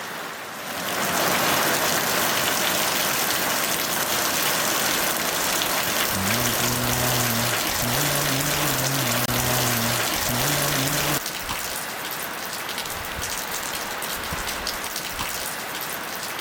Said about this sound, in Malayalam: വേറെ സൗണ്ടോ ഡിസ്റ്റർബൻസോ ഒന്നുമില്ലാതെ നമുക്ക് കുറച്ചു നേരം മഴ ആസ്വദിച്ചാലോ?